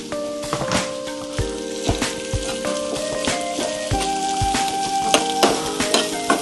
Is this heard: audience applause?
no